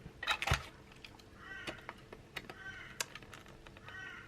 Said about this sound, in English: Oh, I've got so many birds around here today.